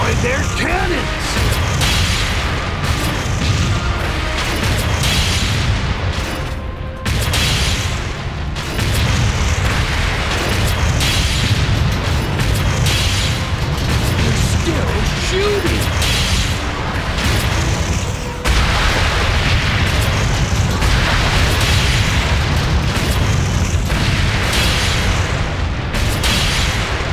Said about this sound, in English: Use this cannon to return fire!